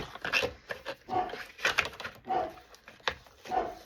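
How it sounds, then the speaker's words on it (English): A dog in a front yard barks and whines in a fit, in repeated loud bursts about every half second to second, close to the listener. "apparently there's stuff in my front yard that my dog is just having a fit over"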